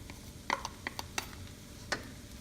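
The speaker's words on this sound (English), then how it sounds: "And we'll give it a good mix." Green mangoes and spring onions are stirred into Thai-style binagoongan fried rice in a pan, giving a few sharp scraping clicks from the spatula over a low steady background, close and alone.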